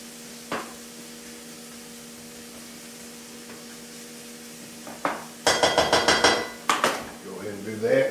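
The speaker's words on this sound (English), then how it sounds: "we're going to throw our shrimp in there and get them cooked" Shrimp and vegetables cooking in a pan for shrimp and grits, with a burst of loud metallic pan and utensil clinks and scraping midway through, over a low kitchen background hum.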